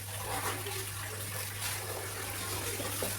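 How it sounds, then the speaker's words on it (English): Water being poured into a wok while cooking egg curry, a soft, continuous splashing pour that runs quietly throughout under a steady background hum. "So I'll pour this water first."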